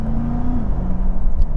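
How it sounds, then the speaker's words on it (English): A 2022 Chevrolet Corvette 1LT Z51 engine revs close up in touring mode, a loud throaty rumble with a tone that rises and then dips over a brief, steady burst. "I'll try to get some revs here really quickly"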